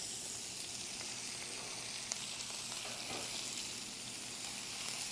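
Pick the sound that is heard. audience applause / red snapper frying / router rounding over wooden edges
red snapper frying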